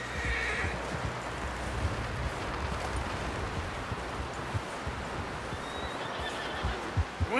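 A horse whinnies near the start in Red Dead Redemption 2, with hoof clip-clops and rustling under a busy, dense outdoor ambience, and a second squealing neigh rises near the end.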